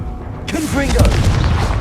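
A burst from the Confringo explosion spell in the video game Hogwarts Legacy: a sudden loud boom with crackling debris and rumble, ringing on under a voice calling out.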